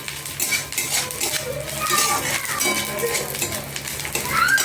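Garlic sizzles in a pan while a metal spoon stirs and scrapes against it, with steady clinks and clatter running throughout under a talking voice.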